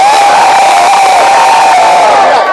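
A loud college festival crowd cheers and shouts together in a sustained roar, with whoops rising above the steady wall of noise, no pauses throughout.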